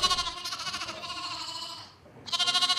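Sheep bleating in a snowstorm, loud, close, wavering bleats that carry on almost without a break, fading briefly before another strong bleat starts.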